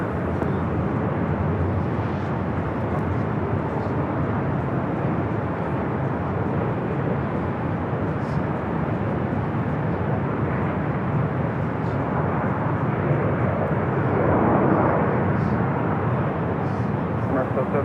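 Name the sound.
Boeing Dreamliner arriving from Paris at LAX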